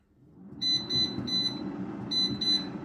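An air fryer beeps while being set: a series of short, sharp electronic beeps, three in a quick run and then two more after a pause, over low rumbling kitchen background noise, close by with no talking.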